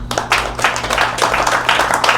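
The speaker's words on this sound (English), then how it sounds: "this next round of applause is only if you actually really found this presentation" An audience at a tech meetup demo night applauds after a presentation, a dense, steady patter of clapping from many hands that carries on throughout.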